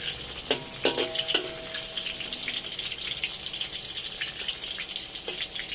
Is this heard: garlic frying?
yes